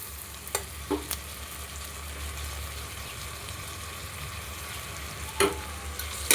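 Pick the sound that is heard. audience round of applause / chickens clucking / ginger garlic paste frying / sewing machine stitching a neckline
ginger garlic paste frying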